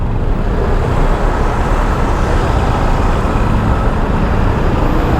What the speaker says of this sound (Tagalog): Kit, grabing traffic dito.